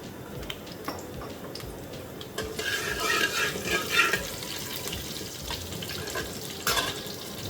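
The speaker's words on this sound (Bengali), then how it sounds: "2 চামচ 5 ফোড়ন দেব। তেল দেব 1 টেবিল চামচ।" Panch phoron spices and oil fry in a pan with a close, steady hissing sizzle that swells midway, with a few soft knocks and no talking over it.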